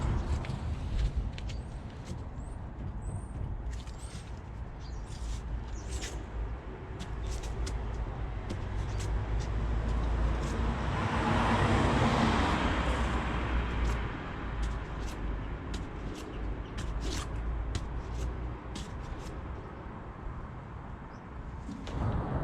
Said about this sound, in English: I can tell there's a slight bit of noise in there, but I think it's more drivetrain noise than actual wheel bearing noise